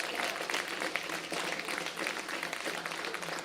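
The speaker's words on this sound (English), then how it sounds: "give your parents a round of applause" A graduation audience at an 8th grade ceremony gives a dense, continuous round of applause, loud and steady throughout with no talk over it.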